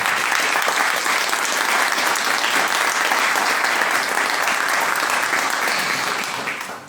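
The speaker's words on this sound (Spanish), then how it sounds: "Recibamos con un fuerte aplauso a Víctor Tapia" Seminar audience at an Argentine country-music history talk breaks into full, dense applause that holds steady and loud, then tapers off at the end.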